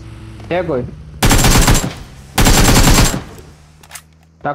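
Gunfire in the PUBG Mobile video game, two loud sustained bursts of automatic AKM rifle fire each lasting under a second, separated by a short gap, with brief voice sounds before and faint clicks after.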